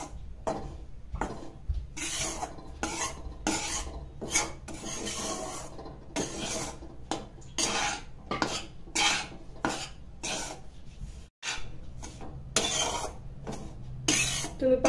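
Wheat flour roasting in a pan and stirred constantly, making rhythmic rasping scrapes as the spoon drags across the pan bottom, repeated in close, fairly loud strokes with brief pauses between them.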